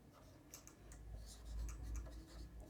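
Chalk or marker scratches and taps across a board in short, faint strokes, close and quiet with no voices over it.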